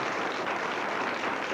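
Dense, steady applause from a theater audience for a magic act fills the room evenly, a continuous wash of many hands clapping with no voices standing out.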